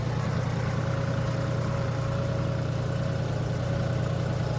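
An old farm tractor idling steadily at close range, a constant low diesel drone with an even throb and a faint whine, no talking.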